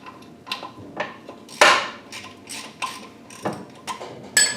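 Metal parts clicking and clanking during an in-place rebuild of a KA24DEAT engine as a component is unthreaded, a series of sharp close knocks and rattles in an otherwise quiet garage.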